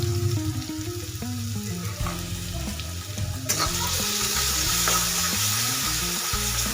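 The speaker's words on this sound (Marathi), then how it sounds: "अद्रक ही आपल्याला त्या तेलामध्येच घालून घ्यायची आणि त्याच्यामध्ये घालायची थोडीशी हळद" Ginger and a pinch of turmeric frying in hot oil for potato patties, a dense continuous sizzle that grows brighter partway through, with a low tonal hum underneath and no talking.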